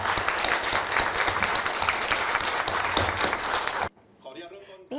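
Audience applause at a Thai news conference after a Phitsanulok by-election, a dense, steady burst of many hands lasting nearly four seconds before cutting abruptly to a quieter voice.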